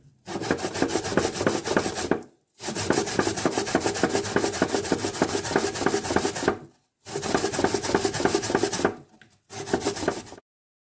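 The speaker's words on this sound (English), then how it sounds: "So we're going to grate it now." Peeled sweet potatoes rubbed hard against a hand grater, a steady rasping scrape in long bursts with brief pauses between strokes, close and loud with no talking.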